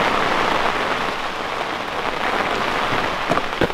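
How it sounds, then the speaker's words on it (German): Heavy downpour during a summer thunderstorm in France drums steadily on surfaces close by, a dense continuous patter with a few sharper drop impacts near the end and no talking. "innerhalb von 5 Minuten haben wir übelsten Starkregen"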